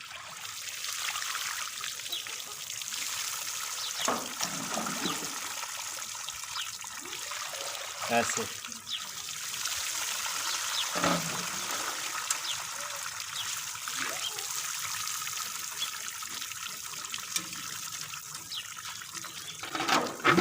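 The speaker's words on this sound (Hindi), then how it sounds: "चावल के ऊपर ऐसे पानी डालेंगे।" Water is poured over soaked rice for sweet zarda rice, trickling and splashing in an uneven stream under someone speaking Hindi, close and fairly clear.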